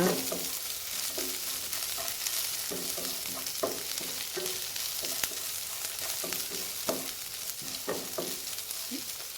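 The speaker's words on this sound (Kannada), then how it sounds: "ಈರುಳ್ಳಿ ಮತ್ತು ಕಾಯಿ ಮೆಣಸಿನೊಟ್ಟಿಗೆ ಹಾಕ್ತಾ ಇದ್ದೇನೆ ಸ್ವಲ್ಪ ಇದನ್ನು ಬಾಡಿಸುವ" Onion, coconut and chili sauté in a pan for a tondekai (ivy gourd) palya, a continuous close sizzle broken by repeated soft scraping stirs at an uneven rhythm, without talk.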